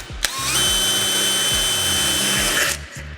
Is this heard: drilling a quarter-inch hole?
yes